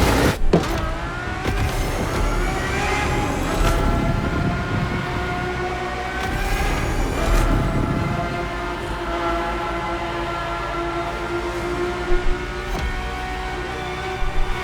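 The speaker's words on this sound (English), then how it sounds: "The F50's core is a normally aspirated V12 that came straight from a Formula One" A Ferrari F50 with its naturally aspirated V12 in The Crew Motorfest racing game, loud and continuous with rising and falling revs, sharp shifts and brief transient bursts, no talking.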